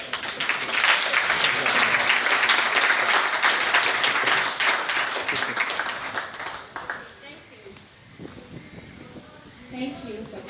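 An audience applauds steadily for several seconds at a project management conference, the clapping fading out as a voice begins speaking.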